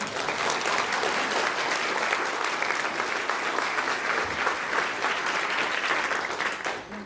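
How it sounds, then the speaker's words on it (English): Sustained audience applause at a congressional candidate forum held in a lecture hall, a dense, loud, even roar of many hands clapping that lasts several seconds before tapering slightly at the end. "I think we can do 1 applause for everyone."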